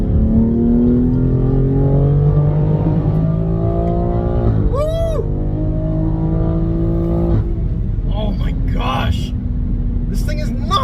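A 2021 BMW X3 M Competition launches under launch control, its engine loud and close as it pulls hard through rising gears with audible shift breaks, while excited voices exclaim over the roar.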